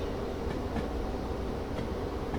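Railroad cars rolling in the train simulator Derail Valley, a steady low rumble of wheels on track with faint periodic clicks, continuous and moderately quiet.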